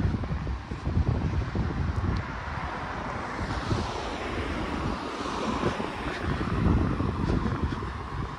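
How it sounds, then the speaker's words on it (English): Ocean waves wash steadily onto the shore along a coastal walk from Lagoa to Ponta Delgada in the Azores, a constant broad roar mixed with heavy wind buffeting the microphone. "I can hear the waves here"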